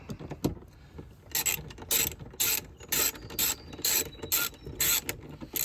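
A ratchet wrench with an extender turns out 7mm bolts inside a 2008 Pontiac Solstice GXP door. Close, crisp ratcheting comes in a steady series of short bursts, with no voices.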